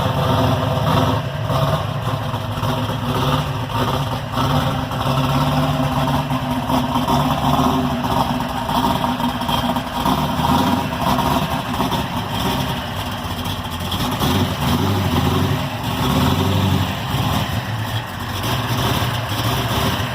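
Chevrolet Camaro engine idling nearby, a loud, steady rumble with a constant drone that stays even the whole time, without voices.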